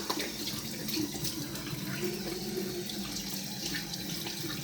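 Water runs steadily from a shower, a continuous hissing splash that stays even and close throughout with no talking.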